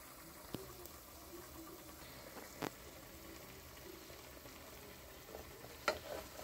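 Garlic and onion fry in a pan for a Persian rice-and-meat pilaf, giving a soft, continuous sizzle with a few sharp clinks of a utensil against the pan, quiet and close with no talking.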